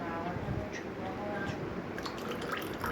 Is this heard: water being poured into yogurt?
yes